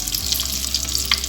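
Eggs frying in a pan of oil for an egg masala curry, a steady close sizzle with faint crackles and small pops throughout.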